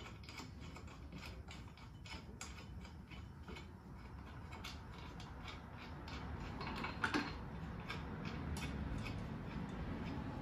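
Close, quiet metallic ticking and ratcheting as 6 mm Allen bolts are threaded evenly into an EVO launch control clutch during a 2500 rpm spring install, a steady run of small clicks with no talk.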